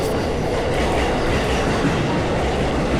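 A Keihin-Tohoku Line train passes close by near Kamata, heard from a walker beside the tracks: a loud, continuous rumble and rolling wheel clatter that fills the whole stretch, with no talk.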